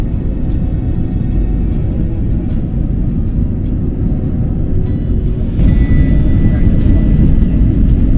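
Jet engines on an airliner departing for Edinburgh roar steadily through the cabin during the takeoff run, a loud continuous rumble that swells slightly toward the end, with voices faint beneath it.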